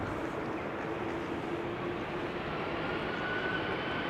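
A DHL cargo jet takes off at Amsterdam Schiphol Airport, a steady, loud engine roar with a broad rumble and a faint whine that holds throughout, with no talking.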